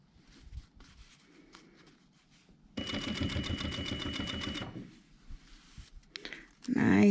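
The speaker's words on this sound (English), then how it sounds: "to the outer edge of our first fold and top stitch through there" A sewing machine top-stitches through layers of fabric and wadding while a fabric scissor holder is made. Its rapid needle chatter runs for about two seconds in the middle, framed by quieter handling sounds and a brief voice.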